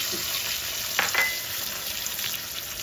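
Curry leaves sizzle and crackle in hot oil for a tadka: a steady frying hiss with a couple of sharper pops near the middle, close up, no talking.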